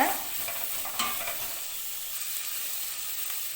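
Cashews are sautéed and stirred in a hot pan for a sweet corn gravy, giving a steady close sizzle with a couple of scraping stirs near the start.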